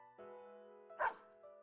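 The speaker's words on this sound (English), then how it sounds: "Snowy barks as if in answer." Snowy, the dog in the video game Persona 4 Arena Ultimax, gives a single short, bright bark over a soft sustained musical hum, close and clear.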